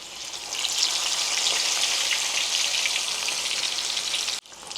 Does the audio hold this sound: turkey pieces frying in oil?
yes